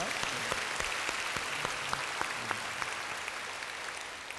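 Church congregation applauding a women's mission society choir at a summer retreat service, a soft, distant, steady patter of many hands throughout.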